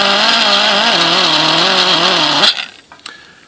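A rotary tool fitted with a carbide bit grinds a Yamaha WR250R skid plate, giving a loud, close, continuous high whine with slight pitch wobble that cuts off abruptly, followed by a few faint clinks and handling noises.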